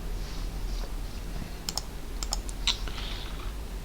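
A short burst of typing on a computer keyboard: a handful of light, crisp key clicks in quick clusters over a quiet background hum.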